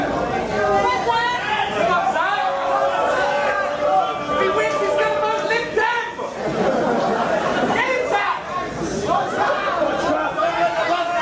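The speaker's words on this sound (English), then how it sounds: "You can hear split allegiances in the crowd again." Wrestling match crowd with split allegiances, a loud continuous roar of chatter, mixed chants and scattered laughter filling the arena, steady throughout with a brief dip midway.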